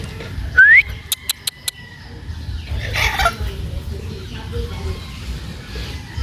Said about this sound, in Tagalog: Dagan kayong manok dito